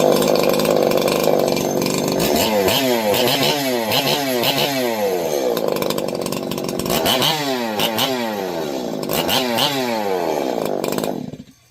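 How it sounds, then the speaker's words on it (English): Ported Holzfforma G366 pro chainsaw with a triple port muffler mod, on its first start, roaring loud and close, revving up and down repeatedly in rising and falling sweeps before cutting off abruptly at the end. "She's running though. Holy crap. We got the muffler mod going on. So that's a triple port muffler."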